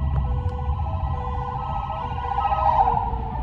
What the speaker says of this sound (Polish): Oho, karetka.